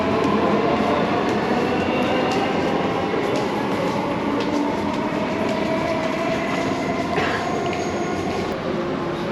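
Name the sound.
Dubai Metro train running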